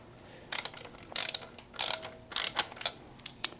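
Ratchet snugging bolts on a CJ5 engine bracket during a rebuild, with a series of close, crisp clicking bursts in an uneven rhythm and no talk.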